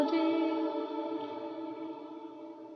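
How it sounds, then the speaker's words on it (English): A shimmer reverb rings out on a sung vocal, a bright, sustained wash of stacked tones that slowly decays after the voice stops, fairly quiet and alone. "this is with the shimmer reverb"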